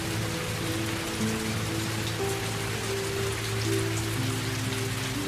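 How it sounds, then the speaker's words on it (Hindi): Steady rain falls continuously on a surface, with dense pattering and a low tonal hum running underneath. "बारिश हो रही है।"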